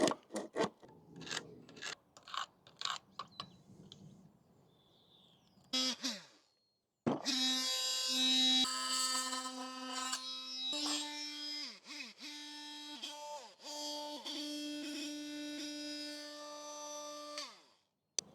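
Grout and abrasive cutter working on a brick during a doorbell install, with short rasping strokes at first, then a loud, sustained high-pitched grinding cut with uneven pitch that stops abruptly near the end.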